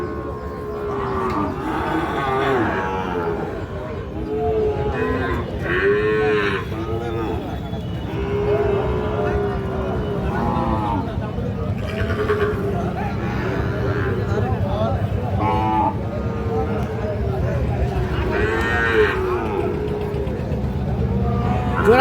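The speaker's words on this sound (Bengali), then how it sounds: "এর পাশে আমরা দুটো শাহিওয়াল ষাঁড় বাছুর দেখছিলাম।" Sahiwal bull calves at a busy village cattle market, several drawn-out moos rising and falling close by over constant crowd chatter, with people talking throughout.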